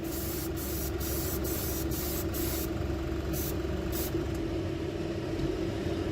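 Airbrush laying a light coat of fabric paint, a continuous close hiss with short on-off breaks in the spray over a steady background hum.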